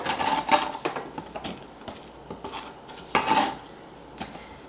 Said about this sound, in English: we're going to cut that into bite-sized pieces